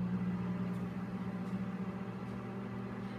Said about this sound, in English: And I'll still set my microwave for 30